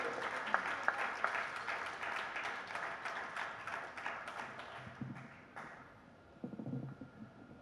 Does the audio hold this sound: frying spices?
no